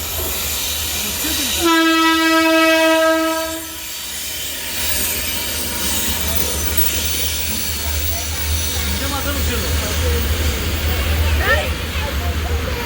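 A train rolls past with a loud horn blast early on, then steady rumbling wheels and clatter continue up close, with people talking over the noise.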